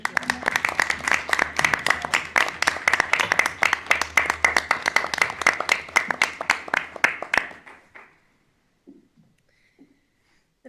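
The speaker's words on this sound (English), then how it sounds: "A round of applause, please." Round of applause from the audience at a school board meeting, a dense run of many hands clapping steadily for about seven seconds before fading out into near silence.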